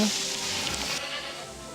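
Goats in a pasture bleat briefly in a soft, slightly distant call over steady outdoor background noise, with no speech.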